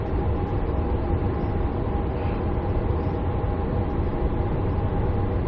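A Sydney train pulls into a station platform, a steady loud rumble and hum of the moving carriages heard from on board, with no voices.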